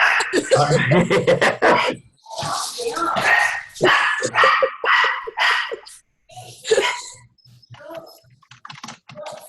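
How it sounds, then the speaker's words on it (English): A mini golden doodle barks in sharp, repeated bursts across the clip, loud and close, with gaps between volleys and some quieter clicking sounds later on. "the mini doodle's barking because that's what she does"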